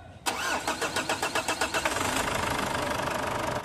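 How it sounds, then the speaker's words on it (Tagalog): A Ford Everest diesel engine cranks with a rapid rhythmic churning for about two seconds before catching in a slow hard start, then settles into a loud, close, steady idle. "pwede mo na ngayon start itong makina"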